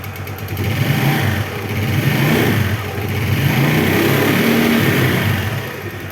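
A 2005 Yamaha Mio scooter engine running steadily up close, a loud continuous mechanical hum and buzz that swells slightly at times, with no one talking.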